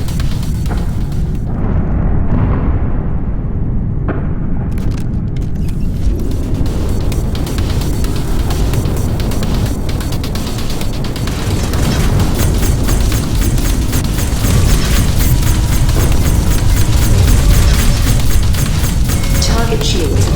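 Explosions of destroyed targets in SpaceBourne 2 space combat boom and rumble through a dense, continuous roar of engines and weapon fire, loud throughout, with a voice speaking briefly.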